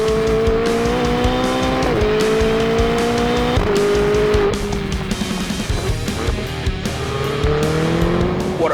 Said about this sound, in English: This car, the way it accelerates and keeps accelerating